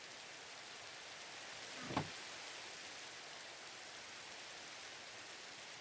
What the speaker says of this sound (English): And it's started raining.